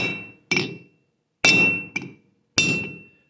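A hammer strikes a drill bit to punch a hole in a 1980 Triumph TR7 panel, three sharp metallic whacks spaced about a second apart, the last two followed by quick lighter taps, each ringing briefly before fading.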